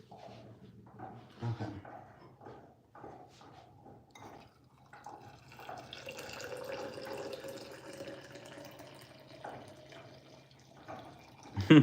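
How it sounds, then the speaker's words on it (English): Water is poured close by, starting as scattered drips and clinks and swelling midway into a steady, quiet trickling stream before tapering to a final clatter. "I love pouring water or like pouring tea"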